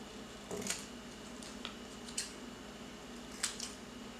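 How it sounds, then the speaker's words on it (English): Scissors snip through paper to cut out a signature scroll stamp design, several short crisp cuts spaced irregularly, close and fairly quiet with no talk. "I can cut that design out of the paper."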